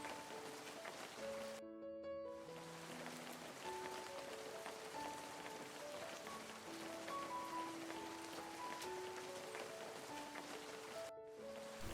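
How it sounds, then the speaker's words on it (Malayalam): Steady monsoon rain falling in Palakkad, Kerala, a dense continuous hiss of drops that holds the same level throughout with no voices. "ഞങ്ങൾ ഇതാ അടുത്ത മഴയിലേക്ക് ഇറങ്ങി നടക്കുകയാണ്"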